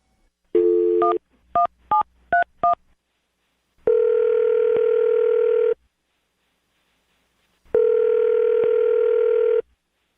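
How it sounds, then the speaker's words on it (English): A string of touch-tone dialing beeps, then two long steady ringback tones separated by silence, clear and close. "I'm going to dial his phone number right now"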